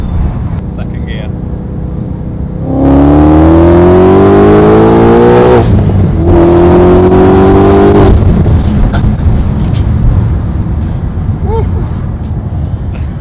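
An 800BHP supercharged Ford Mustang pulls hard through second gear, its loud engine note climbing steeply in pitch across two long sweeps split by a quick shift, with the roof down and people talking over the roar.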